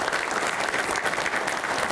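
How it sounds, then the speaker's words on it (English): An audience claps steadily and loudly at a Georgia economic development event for a mega site, dense continuous applause with no voices standing out. "Y'all don't get tired of clapping now."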